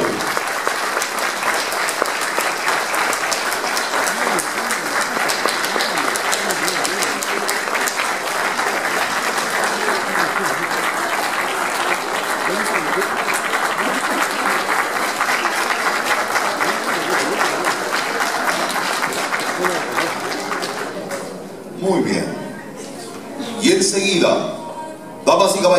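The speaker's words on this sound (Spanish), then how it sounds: "El aplauso de bienvenida para él a la mesa de honor." Welcome applause for a professor joining the head table at a university graduation ceremony, a long, even, full-room round of clapping that fades out near the end, when a voice begins speaking.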